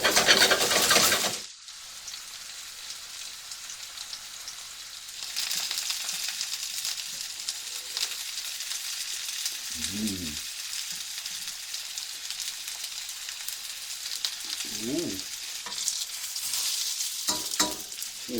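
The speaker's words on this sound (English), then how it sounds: "we're going to fry these for a good 20-25 minutes" Lamb pieces fry in a hot pan for a long cook, a steady broadband sizzle running throughout after a brief quieter gap near the start, with a few soft cooing bird calls in the background.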